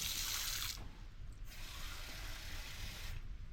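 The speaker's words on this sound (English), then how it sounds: "just using cold water from the tap" Cold water runs steadily from a kitchen tap with a rushing hiss, briefly dipping and surging as the flow shifts, fairly close.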